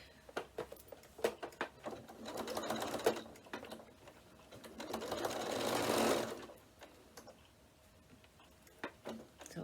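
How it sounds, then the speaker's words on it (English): A sewing machine stitches down a seam on a fabric notebook cover with interfacing, two bursts of fast rhythmic stitching swelling in the middle, framed by scattered ticks and clicks from handling. "I'm going to stitch all the way down this seam here"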